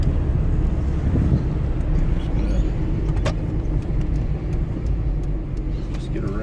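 A Hyundai Excel rolls through a U-turn with a steady, close, low engine rumble and road noise inside the cabin.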